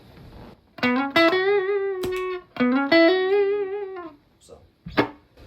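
An electric guitar runs through a compressor pedal into a clean amp, with two phrases of picked notes that ring evenly, separated by brief pauses and a few softer plucks.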